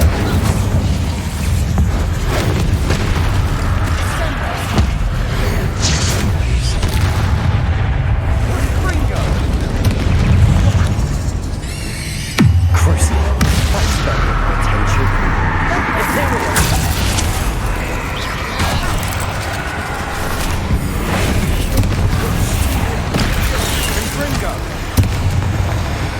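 Repeated Confringo blasting-spell explosions in the game Hogwarts Legacy, loud booming bursts over a dense, continuous battle din of combat noise, with a brief lull near the middle before the blasts resume.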